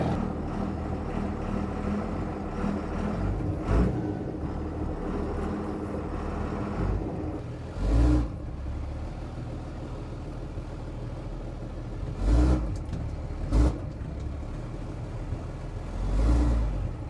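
A Cummins-swapped C60 Viking truck on air bags rumbles steadily at low engine speed, with a few brief throttle blips standing out over the continuous drone.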